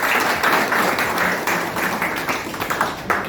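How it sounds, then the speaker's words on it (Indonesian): An audience at a university teaching session in Jakarta claps together, a fairly loud, uneven patter of hands with individual claps popping out near the end. "tepuk tangan dulu"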